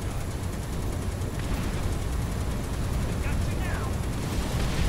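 A turret in Final Fantasy VII Rebirth fires rapid bursts of gunfire, a dense, continuous rattle with low booms underneath and a few faint higher tones.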